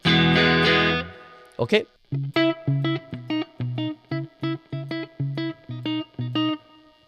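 A dirty, distorted electric guitar tone through a Marshall amp plugin on a UA Volt setup rings out in a loud sustained chord, then a steady run of tight, punchy palm-muted chugs; a voice speaks one brief word.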